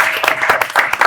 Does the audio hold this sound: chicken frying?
no